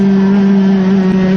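A racing kart engine at Mansell Raceway during a Formula Blue Junior race screams loud and steady close by, holding a sustained high drone for the whole moment without any speech.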